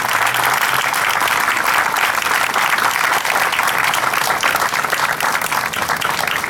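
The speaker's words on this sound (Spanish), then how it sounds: "os pido un fuerte aplauso" Dense, sustained applause from a large audience at a gathering, a steady wash of many hands clapping at once with no pauses.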